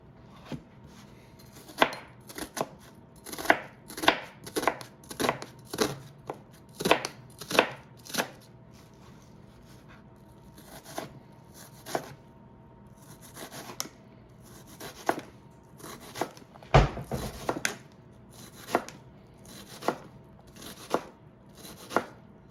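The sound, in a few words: chopping food with a knife for enchiladas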